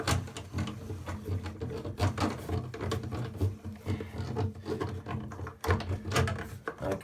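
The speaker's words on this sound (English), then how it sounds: "then we lock up the auger and give her a twirl" A drain auger cranked and twirled inside a bathtub drain through the overflow, giving steady scraping, rubbing mechanical churning with rhythmic grinding bursts, close and fairly quiet, with no talking.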